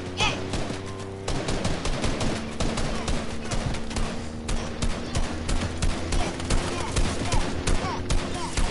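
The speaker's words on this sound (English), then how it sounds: "And they're shooting at us." Dense, rapid video game gunfire rattles almost without pause in a fast squad shootout, mixed automatic bursts and single shots, loud and close throughout with faint voices under the din.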